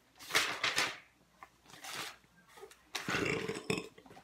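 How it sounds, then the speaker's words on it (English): Several burps come close and fairly loud in a quiet indoor room, arriving in short bursts with pauses between them. "Oh yeah, I got the burps"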